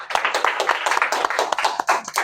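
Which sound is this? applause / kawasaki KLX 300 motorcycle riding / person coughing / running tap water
applause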